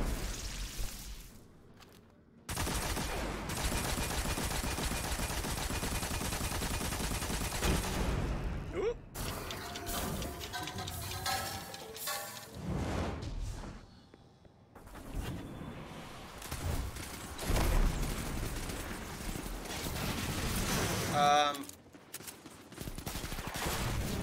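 Rapid submachine gun fire in a video game crackles in long sustained bursts, then comes in shorter volleys with gaps of quiet in between.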